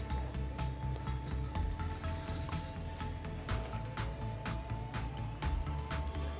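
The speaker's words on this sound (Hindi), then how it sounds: "बस को बिल्कुल धीमी आंच में रखना है, पेशेंस के साथ उसको हमने तलना है कि अंदर तक एकदम क्रिस्पी भी हो जाए" Balushahi dough deep-fries in oil over low heat, a gentle steady sizzle dotted with short crackling pops and faint clicks, quiet and close with no speech.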